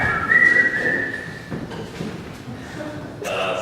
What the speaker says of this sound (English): Concluding with the guard whistling the Nutcracker Suite again.